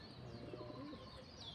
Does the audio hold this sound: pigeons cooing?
yes